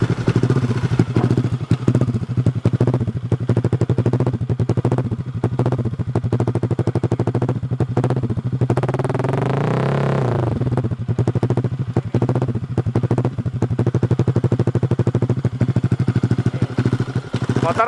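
Stroked-up Yamaha Aerox 200cc motorcycle engine idling and revving loudly nearby, with a steady rough thrum that swells into a rising rev in the middle before settling back to a shaky, vibrating idle.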